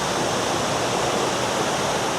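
Abbi Falls near Sakleshpur, dropping water from about 20 to 30 feet: a dense, constant roar of falling water, loud and close, with no other sounds.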